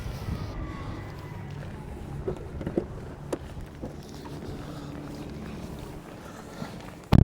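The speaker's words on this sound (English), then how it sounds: "sorry about all this wind. Obviously I can't control it." Wind buffets a microphone outdoors beside a 2026 Cadillac Optiq-V, making a steady low rumbling roar with small gusts, and ends in a sharp thump.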